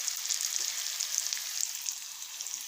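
Potatoes fry in oil in a pan with a steady, soft sizzle and faint crackles, continuous and close, with no talking.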